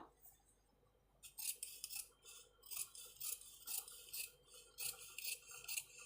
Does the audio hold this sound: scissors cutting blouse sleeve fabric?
yes